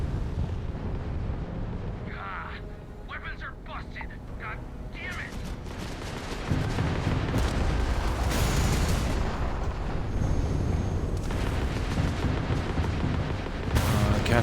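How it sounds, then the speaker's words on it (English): Missiles launch and burst during a space fight in an asteroid field in Starfield, with repeated booming impacts and crackling blasts that grow louder and denser partway through, mixed with a few brief high electronic tones. "they're locking on these missiles way too fast"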